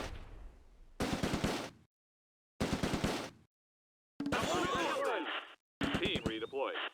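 Bursts of automatic gunfire in the Close Combat wartime tactics game: four separate dense volleys, each about a second long, loud and close, with sharp cracks and clattering echoes between short silences.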